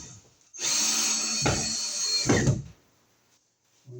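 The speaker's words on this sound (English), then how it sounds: "So we can screw this box onto our wall here." A power drill drives screws to fasten an electrical box onto a wall, with one sustained whirring burst that rises in effort near the end, then cuts off into near silence and a faint knock.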